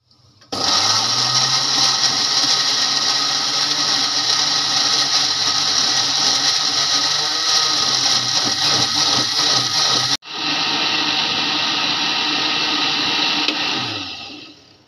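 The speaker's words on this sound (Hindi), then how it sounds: "तो अभी इसको हम ब्लेंड कर लेंगे" An electric blender whirs loudly as it purées watermelon rinds with about half a cup of water, running steadily for ten seconds, cutting off briefly, then starting again before winding down.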